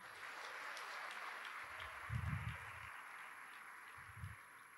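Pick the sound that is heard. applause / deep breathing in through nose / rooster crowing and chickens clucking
applause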